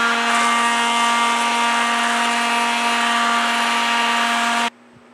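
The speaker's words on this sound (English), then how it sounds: "make a run over the entire stock with 60 grit before I start going with a finer grit" A wooden musket stock being sanded with 60-grit abrasive: a loud, steady, whirring rasp that holds evenly for several seconds, then cuts off abruptly near the end, leaving a faint hum.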